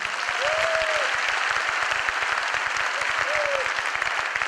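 Loud, steady applause from the audience at a Modicare business opportunity meeting fills the whole stretch, dense and even, with two brief whistle-like tones rising above it.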